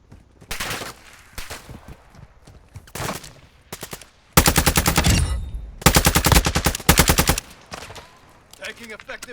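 Bursts of automatic machine gun fire in a military shooter video game, several long rattling volleys at close range with shorter bursts between, alongside radio-style voices and game chatter.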